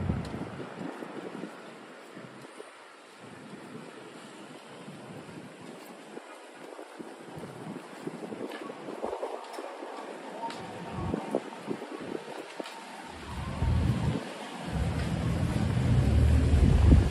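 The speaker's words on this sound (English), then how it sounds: "We're essentially facing all the wind." Wind gusts buffet the microphone outdoors in New York City during a rain-threatening night, a low rumbling roar that builds toward the end with no voices.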